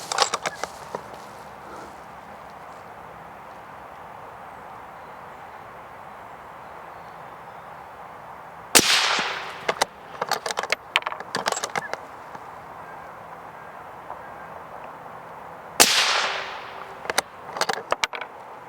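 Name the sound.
rifle shots firing Hornady ELD-VT 62gr .224 bullets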